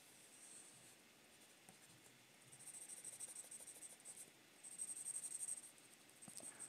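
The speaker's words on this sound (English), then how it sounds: "the sound of pencil and paper" A pencil sketching a comic-book figure on paper makes soft, dry scratching strokes that come in short bursts and pauses, close and quiet, with no voices.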